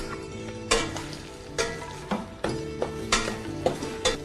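Ground green-pea paste sautéing in a pan with cumin and green chillies for handvo, a continuous sizzle broken by several sharp scraping stirs of a spoon at irregular intervals.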